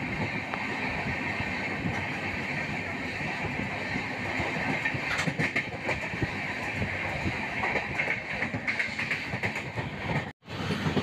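The Sampark Kranti express train runs on rails near the Krishna River railway bridge, a steady rumbling roll with faint rhythmic clatter throughout, heard from inside at moderate level, briefly cutting out near the end.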